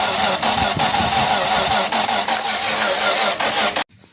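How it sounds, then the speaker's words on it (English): A small engine with a choke, just wired up, runs loudly with a steady, rough mid-pitched drone for about four seconds, then cuts off abruptly into near silence. "so it's going to fire up now."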